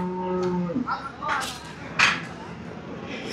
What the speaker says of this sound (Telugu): మార్కెట్లో ఆవులు కూడా వస్తున్నాయి